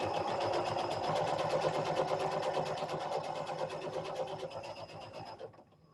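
A sewing machine stitches a patchwork quilting seam in a steady, fast mechanical whir with a regular needle rhythm. It runs close and alone, then slows and stops near the end.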